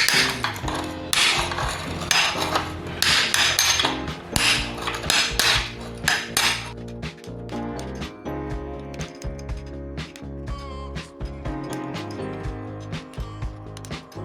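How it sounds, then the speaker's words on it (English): A hammer drives a cold chisel against plasma-cut sheet metal to knock off slag, producing rapid sharp metallic strikes in dense bursts early, then sparser ringing taps and clinks close by. "Just grab yourself a cold chisel and a hammer."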